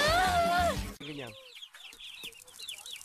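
Chickens cluck and chirp in short bursts nearby, following a brief stretch of a person talking at the start.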